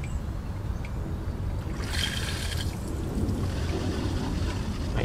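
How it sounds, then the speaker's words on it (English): A home irrigation system with a wireless flow meter: water rushes through the pipes as a steady close hiss, with a brief gurgle of air partway through, continuous throughout. "I hear the water going through"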